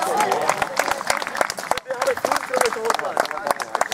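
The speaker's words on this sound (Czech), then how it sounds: "můžeme poděkovat a zatleskat amatérům za jejich výkon dnešní" An audience at an amateur football match, singles versus married men in Klášterec nad Orlicí, claps in a dense, steady burst of applause with a brief lull midway, a voice speaking over it.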